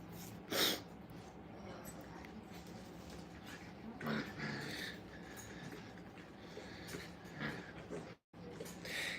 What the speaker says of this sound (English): they just want to bite each other and pull and yank and make the other ones cry